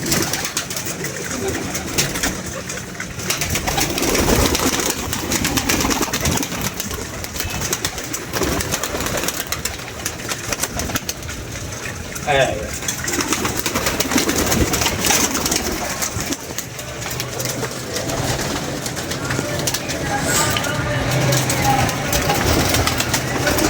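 Pigeons coo on and off through a steady wash of background noise while people talk nearby, on the day new birds are first let out of the loft.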